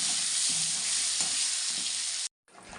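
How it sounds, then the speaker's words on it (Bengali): Potatoes frying in hot oil give a dense, loud, even sizzle up close that cuts out abruptly near the end before a faint return, with no speech. "আর এখন আলুটা এখানে ভেজে নিচ্ছি"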